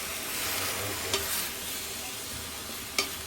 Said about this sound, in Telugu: ఆకంతా మంచిగా వేపుకోండి.